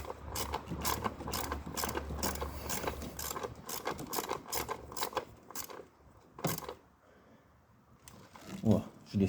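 A ratchet wrench clicks in quick, repeated bursts while the ignition coils on a Nissan 350Z are snugged down, the close metallic ratcheting broken by short pauses and a few handling knocks.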